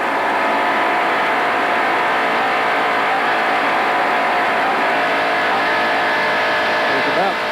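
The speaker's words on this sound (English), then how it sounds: "There's about, looks like at least 25 cars in this pack that we're watching here now." A large pack of NASCAR stock cars roars past during the 1992 Winston 500, a continuous dense engine drone at racing speed with a commentator talking over it throughout.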